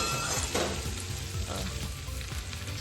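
Okra and potato curry sautéing in a pan, a steady close sizzle with a few soft scrapes of stirring, no voices.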